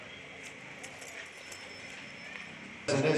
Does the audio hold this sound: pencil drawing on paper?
no